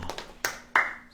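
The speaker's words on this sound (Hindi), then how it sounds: "ऐसे ताली ऐसे कैसे बजती, ये देखो" Two crisp hand claps given as a demonstration during a sermon, sharp and close, spaced about a third of a second apart with brief quiet around them.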